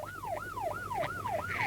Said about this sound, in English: as he sees and hears a police car speeding into the park